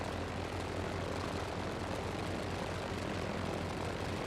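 An F4F-4 Wildcat's propeller engine drones steadily in Microsoft Flight Simulator, a loud, dense, even rumble with a low throbbing pulse that holds throughout without talk.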